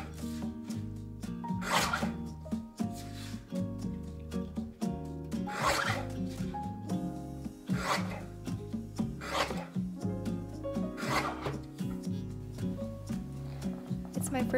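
Paper art prints are cut in repeated rasping strokes that come in regular bursts roughly every two seconds, heard over steady background music.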